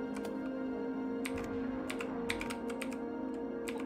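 Rapid, irregular bursts of computer keyboard keys being mashed during a cooperative puzzle game session, clustered clicks over a steady background hum, close and fairly quiet.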